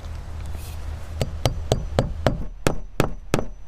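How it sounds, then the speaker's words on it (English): A hammer drives nails through vinyl siding J-channel, about ten sharp, evenly spaced strikes from mid-clip onward over a steady low hum, close and loud, with no talking. "We're going to start nailing as close to the middle of the span as we can"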